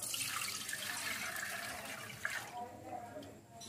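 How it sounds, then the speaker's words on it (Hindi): Water soaked for 24 hours being strained through into a vessel for kanji vada, a steady close pouring and trickling rush that thins out toward the end, with no talking. "अब एक बर्तन में इसको हम छान लेते हैं।"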